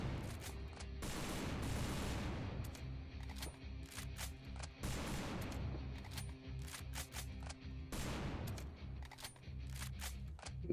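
Gunfire from a Left 4 Dead 2 weapon mod in a video game: three loud bursts of rapid automatic shots, each lasting around two seconds, separated by short pauses filled with sharp clicks and mechanical ticks.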